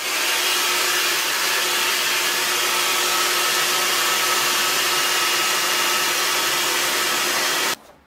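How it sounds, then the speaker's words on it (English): Hair dryer blowing in a steady loud whoosh, running nonstop before cutting off abruptly at the end. "you grab your hairdryer"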